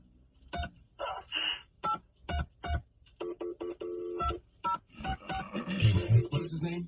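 A rapid string of telephone keypad tones beeps in quick, uneven bursts, close and clear, followed by a faint ringing tone under light noise.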